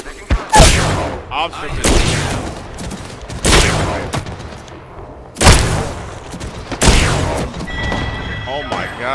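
Bursts of gunfire in an Apex Legends match: several loud, sharp volleys spaced a second or two apart, with a player's voice talking over the shooting.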